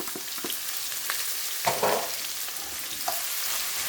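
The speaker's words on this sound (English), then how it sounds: "the garlic's cooked off nicely. I'm going to add my onions." Onions sizzling and frying steadily in a pan in which garlic has already been cooked, a continuous hiss with a few louder stirring scrapes, close and alone.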